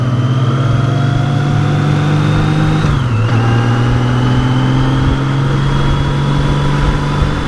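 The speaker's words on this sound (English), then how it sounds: "Oh, that's a noisy car." A loud, rumbling engine drones steadily nearby, its pitch dipping partway through as the car passes by.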